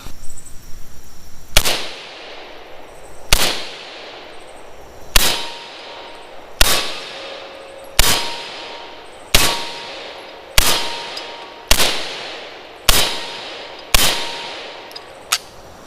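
Rifle shots fired from a gun fitted with Marmot flip-up iron sights ring out one at a time, about a dozen loud, sharp cracks spaced roughly a second apart, each leaving a short echoing tail.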